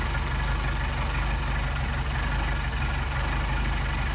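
Mercedes 190SL engine fitted with Solex carburetors idling steadily, a constant close low rumble with even throb, no voices.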